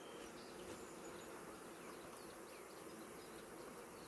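Honey bees inside a beehive make a dense continuous buzzing drone, soft and steady, with no voices.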